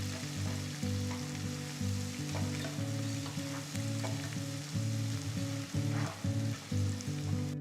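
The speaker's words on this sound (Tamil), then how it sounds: "வெங்காயம் சேர்த்து 1 நிமிஷம் வதங்கட்டும்." Chopped onions sautéing in hot oil with green chilies and ginger, a loud steady sizzle and crackle close by with occasional stirring, and a low droning hum running underneath.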